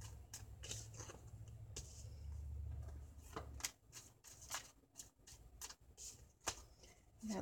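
A tarot deck is shuffled repeatedly at close range, a soft rhythmic riffle of crisp slaps and flutters, quiet and alone.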